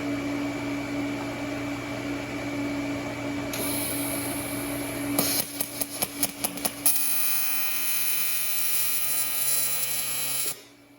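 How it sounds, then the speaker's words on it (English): An Everlast welder set at 250 tacks beadlock rings onto new wheels: a steady electrical buzz, then a run of short crackling bursts, then a longer sustained arc that cuts off near the end. "Got the old Everlast set on 250"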